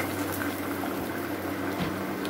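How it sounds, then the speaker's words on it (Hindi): Water poured into a pressure cooker holding mutton for a bhuna mutton recipe, a steady close bubbling, liquid rush lasting throughout with no talk. "इसको हम अब कुकर को लगाते हैं, थोड़ा सा पानी डाल देते हैं ताकि अच्छे से ही गल जाए।"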